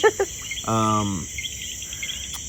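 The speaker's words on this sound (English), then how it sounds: "you can just hear the bugs and the birds and the frogs" A steady high insect trill hums throughout at night, broken by a short harmonic croak of a frog and a few faint chirps, close by and otherwise quiet.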